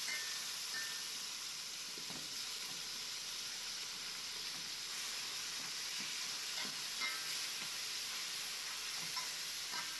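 Oxtails browning in a pan for Jamaican oxtail, turned over partway, give a steady broad sizzle with faint stirring clicks and scrapes throughout, close and even with no talking.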